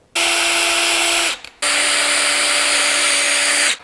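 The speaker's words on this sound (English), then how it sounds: "Raise the PVC pipe up, clamp it in place, drill another hole." A power drill bores a hole through PVC pipe. The motor whines loudly and steadily, stops briefly, then starts again and runs for a longer stretch.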